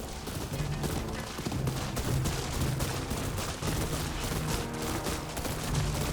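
Gunfire in a samurai battle from the game Ghost of Yotei, rapid crackling shots in a dense, sustained volley under a low battle din, moderately loud throughout.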